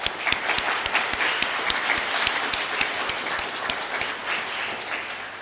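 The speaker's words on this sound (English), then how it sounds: "So, if we can get another round of applause for Jake and Alex, that would be amazing." An audience at a Transremembrance Day live event gives a steady round of applause for guest speakers, many hands clapping densely and evenly throughout.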